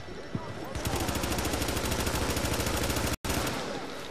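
Gunfire in The Division's Dark Zone: a rapid automatic burst that runs nearly nonstop, loud and close, starting after a single shot, with a brief cut near the end.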